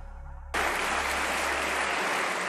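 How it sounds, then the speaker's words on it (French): Applause bursts out abruptly in the French Senate chamber after a quiet moment, then continues as a loud, dense, sustained wave of many hands clapping. "Des applaudissements retentissent dans l'hémicycle au Sénat."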